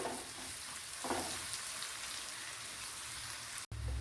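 Garlic, shallots and green chillies sauté in hot oil in a pan for a sweet potato curry, giving a steady close sizzle that stays even throughout and is briefly cut off near the end.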